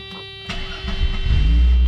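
The engine of a Mercedes flagship sedan starts and settles into a rumbling idle with a little extra exhaust noise, rising from a brief catch into a loud, steady low drone close by.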